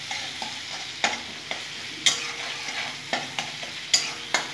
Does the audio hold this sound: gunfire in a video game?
no